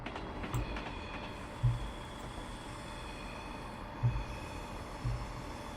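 A train in the Train Simulator Classic game rolls along in a low, steady rumble with a few soft periodic thumps from the wheels, fairly quiet and with no voices.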